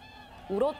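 A loud, bugling honk from whooper swans rises over steady outdoor background noise at Eulsukdo in winter, one drawn-out trumpeting call.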